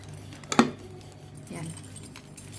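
A bunch of keys jangles briefly in a house, one clear metallic shake followed by a softer rattle, over a quiet room background.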